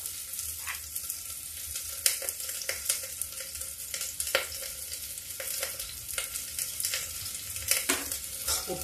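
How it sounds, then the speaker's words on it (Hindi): Onions frying in oil in a pan over a low gas flame, a soft continuous sizzle broken by sharper crackles and occasional stirring scrapes, close and fairly quiet. "ये मेरा प्याज पक रहा है"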